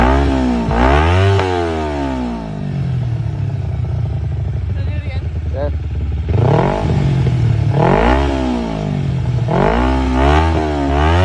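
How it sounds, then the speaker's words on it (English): A motorcycle engine is revved hard in repeated bursts, each throttle blip climbing steeply and dropping back, with a steadier idle rumble between runs. It is loud and close, and a voice comes through under the engine. "letting my coworker Rev bomb my bike."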